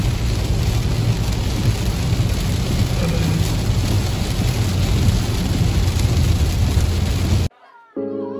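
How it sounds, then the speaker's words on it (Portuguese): Steady heavy rain pours in a dense, continuous hiss with a low rumbling undertone, then cuts off near the end. "Eu torcendo para não piorar a chuva,"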